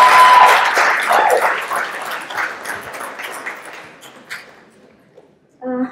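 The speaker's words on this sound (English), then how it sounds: "Please give us a round of applause." Applause from a stand-up comedy audience greeting a volunteer, loud at first and then fading away over several seconds, with a brief voice heard at the very end.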